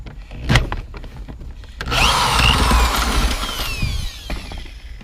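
A power tool whirs steadily for several seconds while backing out a seat bolt inside a Silverado cab, loud and close, preceded by a few clicks and knocks of the tool being positioned.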